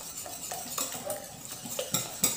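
A utensil whisks by hand against a bowl, mixing oil and milk into an economical chamomile cake batter, giving clinking, scraping strokes in an uneven rhythm with a few louder taps.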